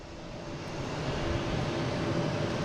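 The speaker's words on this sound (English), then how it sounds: "And next taking off is Delta, heading to Baltimore, Washington International." Delta Embraer E-175 jet taking off at Boston Logan International Airport, a steady broad roar of engines that swells slightly, heard from a distance with no talking.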